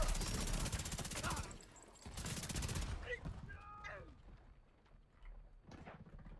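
Assault rifle fire in The Division 2: dense rapid bursts of automatic shots in two stretches, followed by quieter game effects and clatter, with a voice speaking over parts of it.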